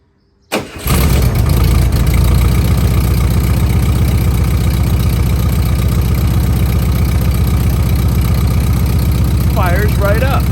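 A vintage VW engine cranks for a moment, then fires and settles into a loud, steady idle with an even rumble that holds close to the microphone until the end.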